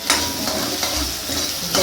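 Onions and curry leaves sizzling steadily in hot oil in a pan for a Tamil vathakuzhambu, with a stirring scrape, close up and continuous, no voices.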